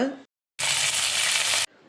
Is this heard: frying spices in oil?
yes